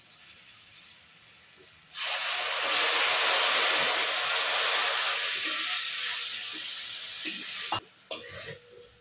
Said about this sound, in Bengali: মশলাটাও বেশ ভালো করেই ভাজা ভাজা হয়ে গেছে